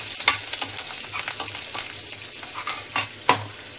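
Fenugreek seeds and curry leaves sizzle and crackle in hot oil for a Konkani fish curry, with steady frying hiss broken by sharp pops and the scrape of stirring, close and fairly loud, no talking.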